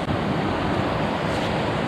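A snowmelt-swollen river in the Ruahine Ranges rushes in a steady, loud, unbroken roar of water, with no voices over it.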